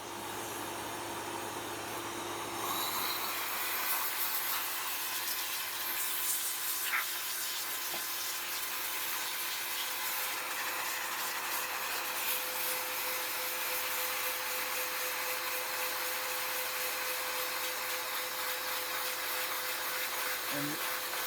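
Cordless handheld compressed-air duster blowing dust from a computer motherboard on its low setting, a steady close whooshing hiss with a faint motor whine that starts after a brief quieter moment and runs on without pause.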